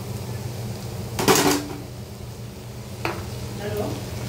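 A spoon stirs roasted eggplant into a spiced baingan bharta mixture in a pan, making one louder scraping stir followed by two softer, shorter ones, close by over a quiet kitchen background.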